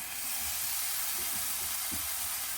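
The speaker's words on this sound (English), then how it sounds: "So you hear that sizzle, it means your pan's hot enough." Egg bites frying in a hot pan give a quiet, steady sizzle with soft crackles scattered through it, heard close up on their own.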